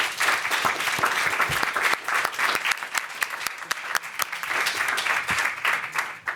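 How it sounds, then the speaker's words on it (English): An indoor audience at an education reform panel event applauds the panelists, a dense, sustained clapping that holds steady for several seconds. "let's give our panelists a round of applause"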